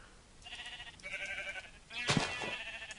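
Sheep bleating in a Minecraft modpack game world, a few drawn-out nasal bleats one after another, with a louder, sharper bleat near the end, clear and close with no talk.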